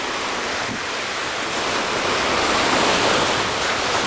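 Ocean surf breaks on a beach during surf fishing, a loud continuous wash of white noise that swells toward the end, with no voices.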